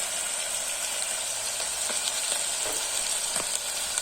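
Chicken pieces hiss and sizzle steadily in hot oil in a frying pan for a chicken dish, with occasional faint clinks and stirring scrapes, close and continuous.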